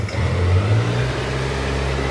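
A 2024 Kawasaki Z900 SE motorcycle engine idles at a raised RPM in neutral, a loud, steady, close low rumble with no talk.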